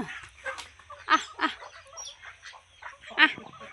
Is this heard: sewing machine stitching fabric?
no